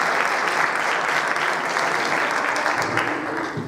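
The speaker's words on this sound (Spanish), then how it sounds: "Pueden aplaudir si quieren" A comedy show audience applauds in a dense, steady wash of clapping that fills the room, loud and continuous before easing slightly at the end.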